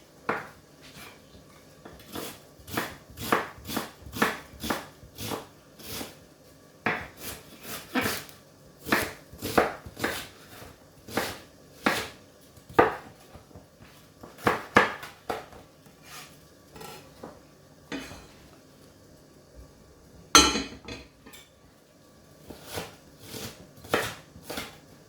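Kitchen knife rough chopping garlic and onion on a board, a long run of crisp, irregular taps in quick clusters with brief pauses, close and clear with no talk.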